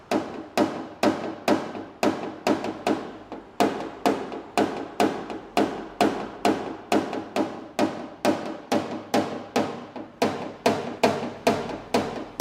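A small hammer taps steadily on a car body panel to work out a dent, each strike a sharp metallic tap in a fast, regular rhythm, close and clear with no talk.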